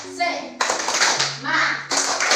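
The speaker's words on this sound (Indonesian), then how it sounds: "Ya, tepuk semangat." A class of schoolchildren does a rhythmic spirit clap together, bursts of hand claps mixed with loud children's chanting and voices.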